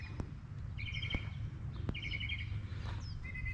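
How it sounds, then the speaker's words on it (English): Birds sing in the early morning, with faint, distant chirps and several short trilled phrases repeating over a quiet, low background rumble. "The sound of the birds"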